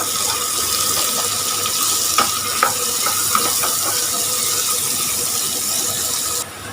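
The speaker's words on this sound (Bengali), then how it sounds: "এলাচ দারচিনি লং তেজপাতা দিয়ে দিই সুন্দর একটা ফ্লেভার আসবে ভেজে নিই একসাথে" Cardamom, cinnamon, cloves and bay leaf frying in oil for mutton korma, a steady close hissing sizzle with a few faint clicks and pops.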